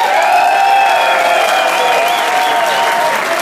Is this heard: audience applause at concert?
yes